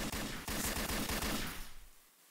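Rapid automatic gunfire in a video game, a close, loud burst of quick repeated shots that fades out after about two seconds, with no talking.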